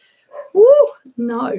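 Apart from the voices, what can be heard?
dog barking downstairs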